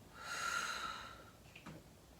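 A single close, breathy exhale through the mouth in a stretching class breathing exercise, lasting about a second, followed by a few faint small noises, with no talk.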